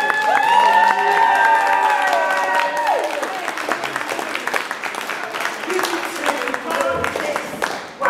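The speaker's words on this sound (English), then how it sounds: "round of applause for Lee Campbell." An audience at a poetry event breaks into applause that runs for several seconds, with scattered clapping over a voice speaking at the start.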